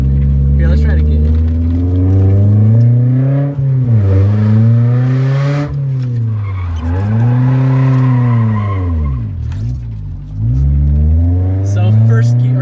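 A car engine pulls slowly in first or second gear, its low tone rising and dipping in repeated surges with a wavering drone, loud and close, with faint tire noise between pulls.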